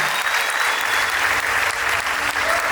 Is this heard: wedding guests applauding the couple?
yes